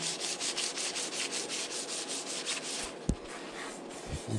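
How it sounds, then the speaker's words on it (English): Lambretta scooter bodywork being hand-sanded with 800 grit paper wrapped on a sponge, a steady rhythmic rubbing stroke repeating close up, with one sharp knock near the end. "You just sand. This is a piece of 800, and I just use a sponge"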